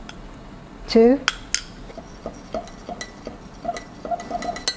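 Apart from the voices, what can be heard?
teaspoon adding instant coffee creamer to a cup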